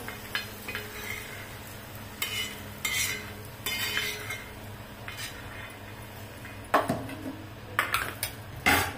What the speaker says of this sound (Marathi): कांदा पण असा परतू द्यायचा. कांदा बी चांगला तळून घेतलाय.